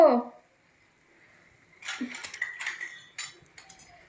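A miniature cooking pan is set down among small metal dishes, a string of light, close clinks and scrapes after a short voice at the start and a quiet pause.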